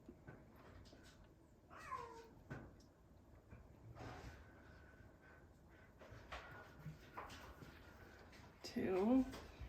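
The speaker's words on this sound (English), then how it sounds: "I have a cat trying to break into the house at the moment." A cat trying to get into the house meows a few times outside, faint and intermittent, with light household knocks and sliding sounds, one louder yowl near the end.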